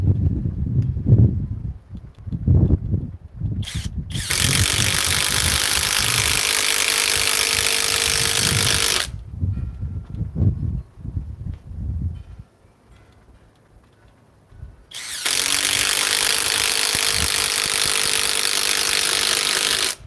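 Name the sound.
power tool driving 4-inch timber lock screws into wood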